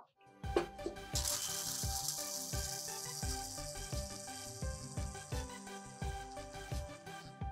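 A mixer grinder whirs loudly and steadily, with a rhythmic rattling chop as roasted nuts are ground to powder, running continuously throughout.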